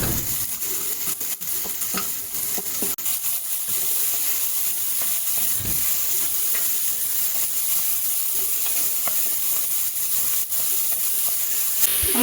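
Cabbage and chopped tomato fry in a pan with a steady, close sizzle and occasional stirring scrapes, continuing without pause and with no one talking.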